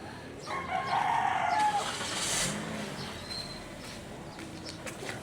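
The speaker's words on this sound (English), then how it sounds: "they've got cockerels here." Cockerels kept for breeding crow nearby in a neighbourhood of Angeles City, Philippines; one loud crow rings out early, followed by fainter, shorter calls amid street ambience and a passing vehicle.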